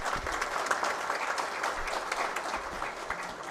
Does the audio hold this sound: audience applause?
yes